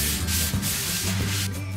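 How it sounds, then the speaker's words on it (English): Rapid back-and-forth scraping of hand sanding against a drywall surface, close and continuous, with no talking. "I'm just sanding down this section of the wall into the garbage can"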